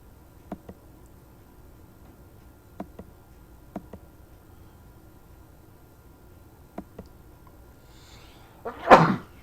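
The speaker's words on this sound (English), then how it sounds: "Gesundheit." A single sharp sneeze bursts out near the end, after a run of faint, scattered clicks at a Magic: The Gathering Mirrodin Besieged pre-release tournament table.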